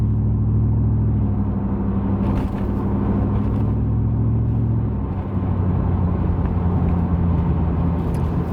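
A 1994 Mercedes E500 with its 5-liter V8, built with Porsche, cruising on an open highway: a steady, loud low engine rumble and road drone throughout, with a slight dip in tone midway.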